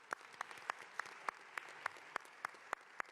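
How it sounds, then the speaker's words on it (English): Scattered clapping at the opening of the Shirley Chisholm Recreation Center in Flatbush, with sharp, evenly spaced single claps standing out over faint crowd noise, quiet overall. "let's give them applause."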